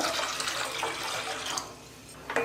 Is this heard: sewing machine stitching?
no